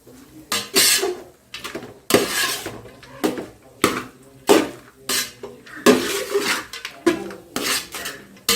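A spoon clatters and scrapes against a pot while chicken biryani ingredients are stirred, giving repeated loud metallic knocks in an uneven rhythm with no talk.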